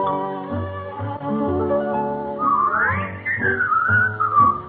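A bright whistled melody from a song on a 1940s radio show, rising and gliding over a sung, harmonized accompaniment, loud and close.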